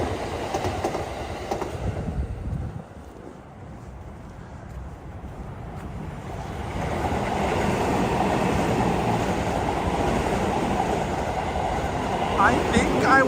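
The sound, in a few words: Yamanote Line train passing behind bushes in Tokyo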